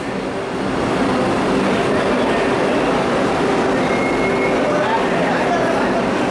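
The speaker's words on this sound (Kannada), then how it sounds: "ಫೈನಲಿ ಟ್ರೈನ್ ಅರೈವ್ ಆತ್ರಿ ಯಶವಂತಪುರ ಜಂಕ್ಷನ್ ಪ್ಲಾಟ್ಫಾರ್ಮ್ ನಂಬರ್ 1ಗೆ" The new Vande Bharat Express, on its inaugural Bengaluru–Belagavi run, rolls into platform 1 at Yeshwantpur Junction with a steady, loud rumble of wheels and faint squeals, while people talk on the platform.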